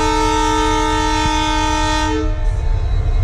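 A loud Indian Railways EMD diesel locomotive sounds a long, steady multi-tone horn blast close by, over a deep engine rumble. The horn cuts off near the end and leaves the diesel throbbing alone.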